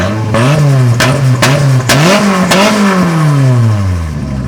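Nissan S14 drift car with a very loud exhaust, revved hard several times in a row, each rev rising and falling sharply with crackling bursts, close by and with no talking over it.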